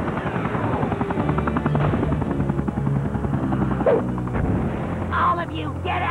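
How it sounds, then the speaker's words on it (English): A cartoon helicopter's rotor thumps and roars loudly and continuously, with bursts of other noise and voices mixed in. "Oh, no. The leader's helicopter!"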